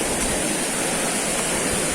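River water rushes steadily along a riverbank on a hike toward a waterfall, a constant broadband wash of flowing water heard close and unchanging, with no voices.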